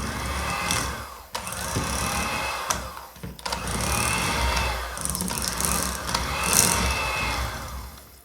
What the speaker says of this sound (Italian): Ammorbidisco un po' con il frullatore la crema al cioccolato.